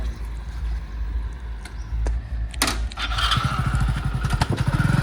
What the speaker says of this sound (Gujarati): બાઇક સ્ટાર્ટ કર ચાલ